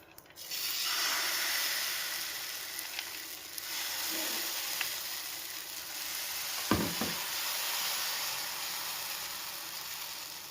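Jamun and coconut dosa batter sizzles on a hot pan with a steady, close hiss that holds for about ten seconds, marked by a brief scrape partway through.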